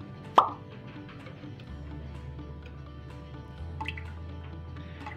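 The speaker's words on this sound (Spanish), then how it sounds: "Vamos a agregar también 1 cucharadita de nuestra vainilla." A single sharp plop as a teaspoon of vanilla drops into a milk mixture for jamoncillos, followed by a quiet low hum from the stove and faint clinks.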